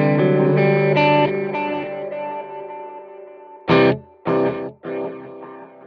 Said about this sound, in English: So what I've got now is the quarter note delay into the dotted eighth note delay,